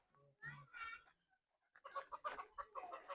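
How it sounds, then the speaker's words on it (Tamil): Guinea fowl kept on a poultry farm give a short series of harsh, rhythmic calls, a few faint cries first, then a louder run of repeated clucking notes close by. "இது கின்னி கோழி."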